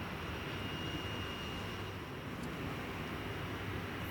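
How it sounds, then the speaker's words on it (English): A huge Virgin Atlantic Airbus A350-1000 arriving at Manchester Airport from Las Vegas, heard as a steady, broadband jet roar that holds at an even level throughout, with no voices. "Virgin Atlantic Airbus A350-1000, so absolutely huge, coming in from America, Las Vegas."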